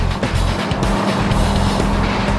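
A car braking hard on a track, one of twenty stops over five laps to heat the brakes, a loud close roar of engine and tyres sustained throughout.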